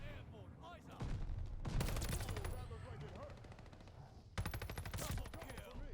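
Rapid automatic gunfire bursts in Call of Duty: Vanguard, with several loud, dense fusillades separated by brief lulls, heard close and layered over game ambience.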